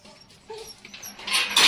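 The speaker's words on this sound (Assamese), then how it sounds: "কুকুৰটা মাতি আছে" A dog, likely a puppy, makes brief whimpering yips that grow louder toward the end, close by and with no talking.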